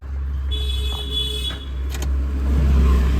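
Engine of a Maruti Eeco car with a starting fault, turning over with a deep, loud, steady rumble and a thin whine and brief clicks over it, never catching into a clean idle.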